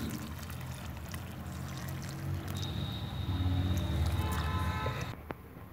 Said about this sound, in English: We will put the water like this.